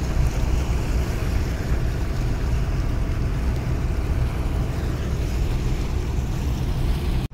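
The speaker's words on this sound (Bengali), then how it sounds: "আরও একটি লঞ্চ কিন্তু ইতিমধ্যে কিন্তু এই যে ঘুরে আসতেছে।" A crowded passenger launch turns on a Bangladeshi river as boats depart a large religious gathering, giving a steady low engine rumble with wind and water wash, constant and fairly loud throughout.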